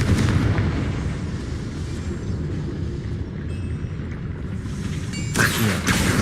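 A Confringo blasting spell explodes in the video game Hogwarts Legacy, giving a loud, rumbling, booming blast that sustains throughout, with a sharper burst near the end and no talking.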